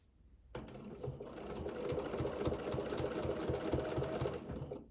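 A domestic sewing machine runs quilting stitches, starting after a brief pause and settling into a steady, rapid, close mechanical chatter of needle strokes for several seconds with no talking.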